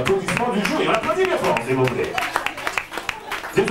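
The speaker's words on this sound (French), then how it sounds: "Applaudis bien fort, s'il vous plaît." Audience clapping at a party contest event, a burst of hand claps with talk and voices running over it, the applause thinning out toward the end.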